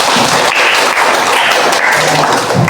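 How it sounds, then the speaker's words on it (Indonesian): A classroom of primary school children clapping their hands together, a dense, loud, continuous patter of many hands that holds steady for a few seconds. "Tepuk tangan untuk kita."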